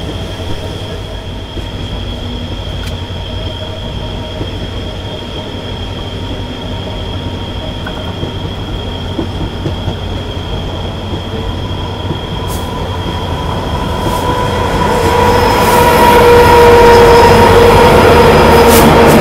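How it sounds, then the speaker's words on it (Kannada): A train rumbles past on a nearby line, a low steady roll of wheels that grows louder toward the end with faint squealing. "ಹುಬ್ಳಿ ಲೈನಿಂದ ಕೂಡ ಇನ್ನೊಂದು ಯಾವುದೋ ಒಂದು ಟ್ರೈನ್ ಬರ್ತಿದೆ ಪ್ಯಾರಲಲ್ ಆಗಿ."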